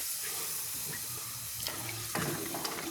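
Tamarind water poured into a simmering Kerala-style fish curry, a steady watery hiss and trickle close by, swelling into a louder splash near the end.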